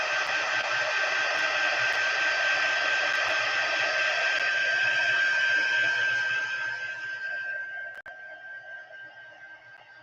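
A handheld dryer blows a steady, loud hiss over an altered book page, then tapers off near the end with a click.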